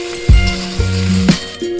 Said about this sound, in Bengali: পেঁয়াজ আমার ভাজা ভাজা হয়ে গিয়েছে